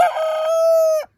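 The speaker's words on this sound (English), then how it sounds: "Chicken." A single close, loud rooster crow, one sustained rising call lasting about a second before cutting off.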